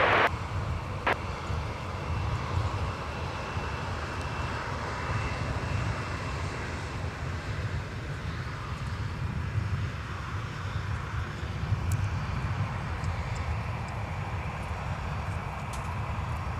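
A Sun Country Boeing 737-800 jet takes off at Minneapolis–St. Paul Airport, its engines giving a steady, broad roar that holds loud and even throughout the clip, with no talk over it.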